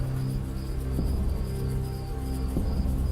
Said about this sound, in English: I hear some buzzing sounds.